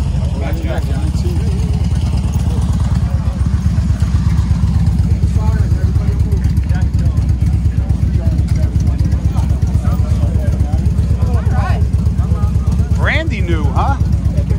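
A brand-new 2021 Harley-Davidson big bore motorcycle engine idles nearby with a steady, loud, lumpy low throb, while men chat casually over it.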